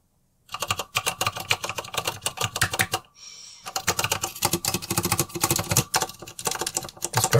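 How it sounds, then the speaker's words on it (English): Typing on a custom-built MechBoard64 mechanical keyboard with sanded space bars, recorded close from above: rapid bursts of sharp, clacky keystrokes in quick runs, a short pause midway, then more fast typing. "let's try listening to this keyboard"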